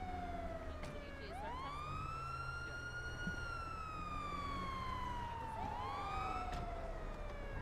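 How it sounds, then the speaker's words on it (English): Police sirens wail continuously in a GTA 5 roleplay scene, a steady rising and falling tone that sweeps up sharply twice, loud and close, holding for the whole stretch. "Hey, turn off those sirens."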